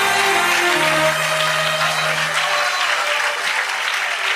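A church congregation claps together in steady, dense applause, loud and sustained throughout, fading slightly at the end with no voices above it.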